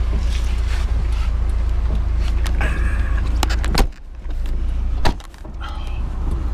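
A 1994 Porsche 968 Club Sport boot lid is released and swung open, with a pull-catch click, a mechanical clunk and short rattles over a low steady engine idle, all close up.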